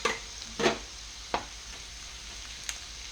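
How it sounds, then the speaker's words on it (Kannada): Garlic and mustard seeds hit hot frying oil for garlic rice, giving a soft steady sizzle with a few sharp crackles and pops scattered through, close by. "ಸಾಸಿವೆ ಹಾಕ್ತಾ ಇದ್ದೀನಿ"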